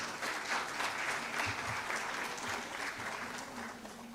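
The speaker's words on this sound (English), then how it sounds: "A huge round of applause for our performers" An audience at a university farewell ceremony applauds its performers, a steady wash of many hands clapping at moderate distance, fairly soft and even throughout.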